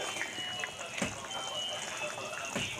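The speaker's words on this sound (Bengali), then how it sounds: "দেখুন ঝোল ফুটতে শুরু করে দিয়েছে" Fish and potato curry broth boils in an uncovered pot for Bengali tangra fish jhol, a soft continuous bubbling and gurgling of liquid at close range.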